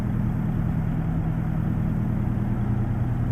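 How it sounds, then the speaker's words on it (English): A two-stroke Detroit diesel engine in a truck-driving simulator runs as a steady, loud, low rumble with no change in pace and no other sounds. "Sounds like a two-stroke Detroit."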